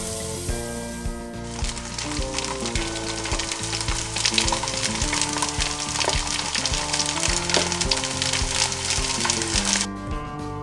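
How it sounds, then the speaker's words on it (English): Wild boar meat and garlic frying and browning in a hot pan, a loud steady sizzle crackling close up for about eight seconds, with occasional stirring scrapes and no talk. "Get the meats browned up."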